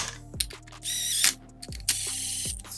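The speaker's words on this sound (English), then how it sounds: "Now we'll thread these in with the impact going across" An impact wrench threads bolts into a Kawasaki KFX450R engine during a rebuild. It fires in three short, loud, whirring bursts, each cut off abruptly, with a close mechanical rattle between them.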